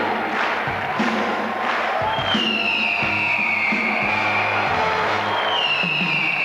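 Audience applauding in the hall at the 1996 Eurovision Song Contest: a broad, steady roar of clapping and cheering with occasional whoops, continuous and full, alongside gliding electronic tones.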